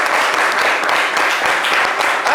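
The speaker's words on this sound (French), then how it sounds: "est-ce qu'on peut applaudir Ashley bien fort, s'il vous plaît" Steady, dense applause from a crowd, filling the whole moment at a loud, even level with no speech over it.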